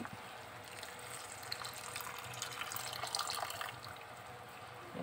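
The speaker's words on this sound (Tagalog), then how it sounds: "So, dahil sticky siya, dagdagan natin ng tubig." Water is poured into a pan of sticky sautéed onions and bell pepper for escabeche, giving a soft, continuous splashing and gushing that runs evenly throughout at low volume.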